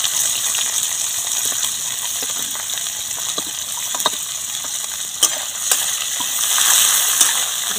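Green beans and carrots fry in hot white oil in a wok, a steady loud hiss throughout with occasional clinks and scrapes of stirring near the end.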